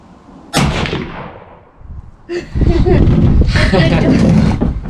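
A rifle fires a single loud, sharp shot on a stag hunt near Kaikoura, New Zealand, and its echoing tail fades over about two seconds. People then talk loudly nearby.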